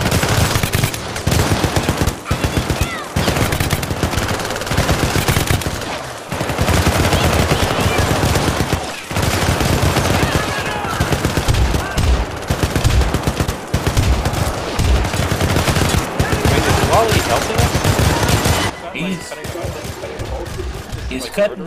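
Gunfire in the co-op video game Syndicate, set in a China mission: relentless, loud bursts of machine-gun and rifle fire rattle almost nonstop, easing off near the end, with players talking over it.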